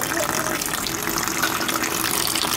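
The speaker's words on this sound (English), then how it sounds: "See the water coming out?" Water gushes steadily from a leaking air conditioning system line, a constant close, dense rushing flow with no break.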